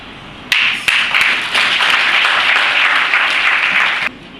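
A seated crowd at a fiftieth-anniversary celebration bursts into loud, sustained applause, dense clapping near and continuous for several seconds before stopping abruptly.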